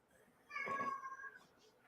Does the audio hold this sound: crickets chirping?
no